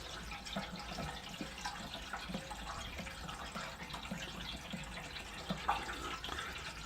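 Water running from a tap into a homemade keg kettle: a faint, continuous splashing and trickling flow with small drips and clinks, heard alone without talking.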